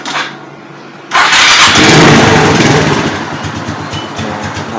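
A Suzuki Hayate motorcycle engine starts up: a short starter whir, then the engine catches with a loud burst and settles into a steady, close idle.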